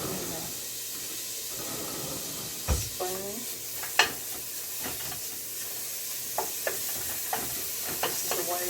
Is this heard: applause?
no